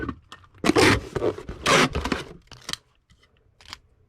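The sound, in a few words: taping up a cardboard shipping box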